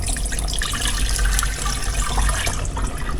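About four cups of water splash and gurgle into a cooking pot for chicken noodle soup, a continuous, close pouring rush lasting around three seconds.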